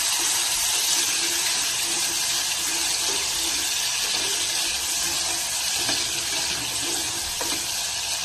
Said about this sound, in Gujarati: મસાલા ના બળે એના માટે થોડું પહેલાં પાણી ઉમેરી દઉં છું